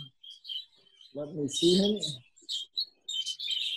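Budgies in breeding cages chirp and tweet in short, high bursts close by, with someone speaking briefly in the middle.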